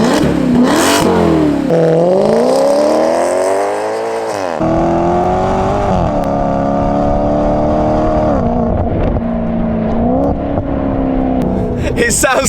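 A Maserati GranTurismo with a modified aftermarket exhaust revs loudly and repeatedly, the engine note climbing and falling through several sustained pulls close by, with a voice briefly audible between revs.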